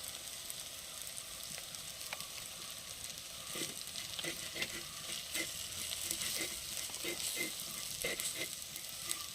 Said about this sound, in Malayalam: ആദ്യം നമുക്ക് ഇങ്ങനെ ഒന്ന് മിക്സ് ആക്കി എടുക്കാമേ